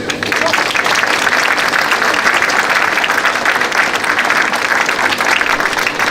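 An audience breaks into steady, loud applause after a speech at a public gathering, with dense, continuous clapping throughout and no pause.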